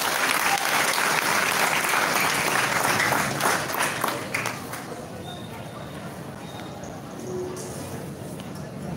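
Applause from an audience at a night high school moving up ceremony, loud sustained clapping that fades after a few seconds into a quieter room murmur.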